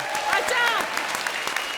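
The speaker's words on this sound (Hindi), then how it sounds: "और अब कंगना के लिए जोरदार तालियां।" A comedy show audience keeps clapping loudly while a host speaks over the applause, the clapping forming a continuous bright wash throughout.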